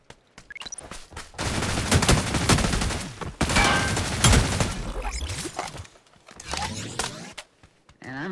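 A Tommy gun in the mobile shooter New State Mobile fires rapid bursts, loud and close, packed into a dense volley early on, then broken into shorter bursts and scattered shots with gaps of quiet.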